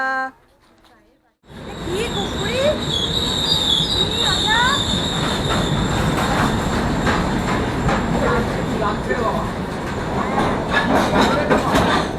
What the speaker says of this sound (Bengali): গুড়ি আজকে প্রথম ট্রেনে উঠবে